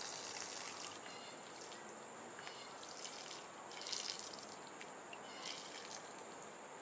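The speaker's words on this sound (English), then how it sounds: "That water's flowing right through there." Thin trickle and faint dripping of water passing through a new Sawyer Mini water filter, soft and close, with a few brief louder splashes over a steady hiss.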